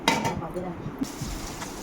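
Potatoes fry in a pan while being stirred, giving brisk metal utensil scrapes and clinks against the pan over a soft, low sizzle, fairly close.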